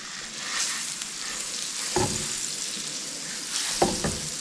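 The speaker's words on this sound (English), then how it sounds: "have that butter ready and melt that butter in the bottom of the pan" Butter melting in a very hot pan on a stove in a remote off-grid cabin, a continuous bright sizzle broken by two sharp clanks of the pan or utensil, close up with no talking.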